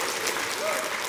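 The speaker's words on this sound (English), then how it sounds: "Loud applause." Loud audience applause fills the whole short stretch as a steady, dense wash of clapping with no break.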